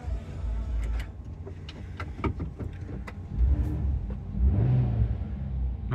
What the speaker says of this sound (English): Nice, healthy sounding V6.